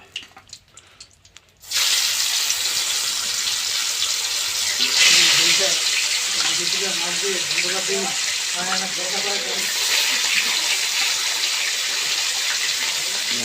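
Small pond rohu fish frying in hot oil, a steady loud hiss and sizzle that jumps in abruptly and continues with bubbly crackles throughout.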